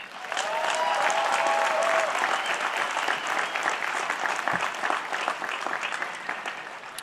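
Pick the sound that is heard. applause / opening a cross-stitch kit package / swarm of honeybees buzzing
applause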